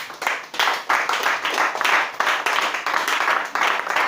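A church congregation at a worship service claps and applauds in acclaim of Jesus Christ, a steady, lively patter of many hands, with moderate loudness and continuous rhythm across the whole stretch.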